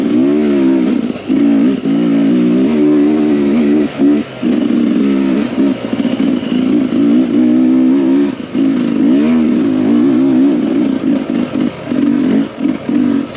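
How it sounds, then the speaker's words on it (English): Sherco 300SE two-stroke motorcycle ridden along flowing mountain single track, its engine loud and close, revving up and down continuously with brief throttle chops and mechanical clatter throughout. "Alright, back on the 2-stroke."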